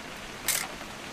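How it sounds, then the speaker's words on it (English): A camera shutter clicks once in the game What Remains of Edith Finch, a short bright snap rising briefly above a soft steady background hiss. "Oh, I'm taking a picture."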